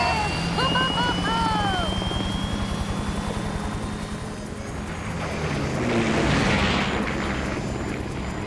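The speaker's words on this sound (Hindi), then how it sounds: "हम एक हेलीकॉप्टर में हैं।" A cartoon helicopter's rotor thrums steadily and loudly throughout, swelling in a whooshing rush toward the end, while animated voices briefly speak over it.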